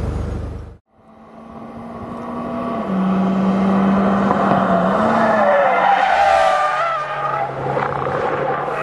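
A Mitsubishi Lancer Evolution X rally car is driven hard, its engine climbing through the revs with a rising whine, shifting gears and pulling loudly and close, with a hint of tyre noise.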